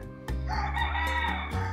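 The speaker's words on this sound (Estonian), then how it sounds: "kukk on seal. Kus on kukk?" A rooster crows one full, loud cock-a-doodle-doo close by at a country house, with no talking over it.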